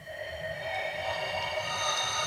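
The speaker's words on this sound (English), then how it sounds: "The wind noise oscillator" A Modor NF1 synthesizer's wind noise oscillator produces a steady breathy hiss layered with faint whistling pitched bands, continuous and fairly quiet, with no other sounds.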